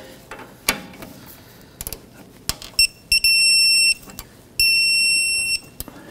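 A wrench torques the tie rod clamping bolts on a 1997-2006 Jeep Wrangler, with close metallic clicks and clatter and two sustained electronic beeping tones as the torque setting is reached.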